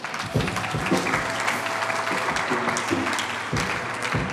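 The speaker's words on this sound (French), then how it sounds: "Est-ce qu'on peut acclamer le Seigneur, s'il vous plaît?" A church congregation applauds steadily for several seconds, a dense crowd of clapping hands filling the room, loud and sustained with no talk over it.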